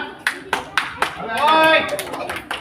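Children give a handful of sharp claps in an uneven rhythm, followed by someone speaking close by.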